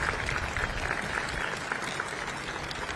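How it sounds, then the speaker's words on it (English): Audience at an Arizona America250 event applauding contest finalists, a steady round of clapping from many hands, moderately loud and even throughout, with no talk over it. "let's give the 10 finalists a nice round of applause for participating in that contest"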